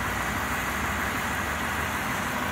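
A 2006 Cadillac DTS Talisman Edition with its 4.6 liter Northstar V8 idles in a steady, smooth, quiet low hum that holds even and unbroken throughout, with no voices over it.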